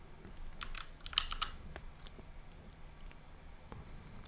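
Quiet computer keyboard being typed on, a short burst of several quick key presses in the first second and a half followed by a few sparse taps, fairly close with low background hiss.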